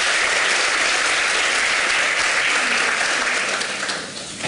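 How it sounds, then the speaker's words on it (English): Audience applause for speakers at a talk event, a dense sustained burst of clapping from a crowd that fills the room and fades slightly at the end. "Round of applause for all those speakers who have come so far."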